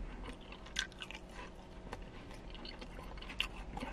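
Someone chews soggy French fries up close, a soft, quiet, wet mastication with occasional crunchy bites over a low, steady background.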